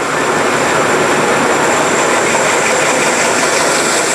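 A Model MV Jr machine feeds a workpiece through and cuts it, producing a loud, continuous, steady grinding roar with a faint high whine running throughout.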